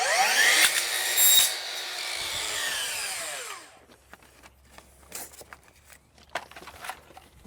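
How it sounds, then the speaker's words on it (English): A power tool cuts J-trim pieces for deck boards, a close, loud whining cut lasting a few seconds, then quieter scattered clicks and rubbing as the work is handled. "We're just gonna cut a bunch of J-trims now."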